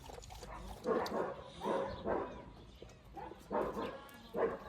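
A dog gives a series of soft, muffled barks and yips at an irregular rhythm, fairly faint and close by.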